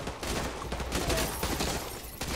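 Gunfire in the video game Call of Duty: MW2 Remastered, set in Afghanistan, rattles in dense, overlapping bursts, loud and sustained throughout, with no voices.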